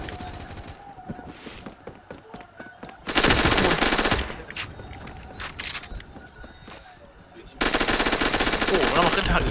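Gunfire from the online shooter game Phantom Forces rattles in two long, loud automatic bursts with scattered shots and footsteps between, while players chatter faintly over the action.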